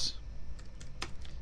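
Keys on a computer keyboard clatter in a short burst of several distinct taps at uneven intervals while a letter is typed, close and fairly quiet against a low room hum.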